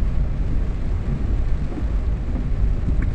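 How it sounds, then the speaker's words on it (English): Heavy rain pours down during a tropical storm in Jamaica, a dense, loud, continuous roar of water with deep rumbling underneath and no voices. "Wow, look on the rain."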